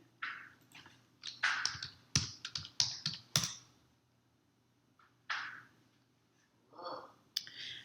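Close keystrokes on a computer keyboard come in quick clustered bursts of clicks, then a pause and a few more isolated taps and short runs, with no one talking.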